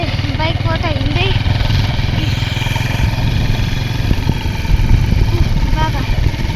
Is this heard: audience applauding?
no